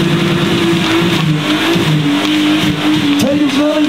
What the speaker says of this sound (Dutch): 3, 2, 1 en burnen!